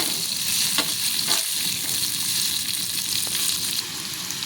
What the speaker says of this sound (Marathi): कांदा उभा कट केलेला आहे मी ते परतून घेणार आहे छान गोल्डन कलर येईपर्यंत परतून घेऊयात